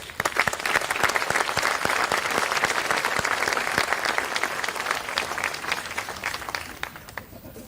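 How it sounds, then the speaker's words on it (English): Graduation ceremony audience gives a round of applause, a thick continuous roar of clapping with sharp individual claps on top, easing slightly toward the end. "One more round of applause."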